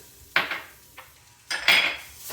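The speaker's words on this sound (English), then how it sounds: "just going to stir these around so they're fragrant" Garlic cloves and minced ginger are stirred in a pan, with a few close, sharp utensil scrapes and knocks spread out over a quiet background.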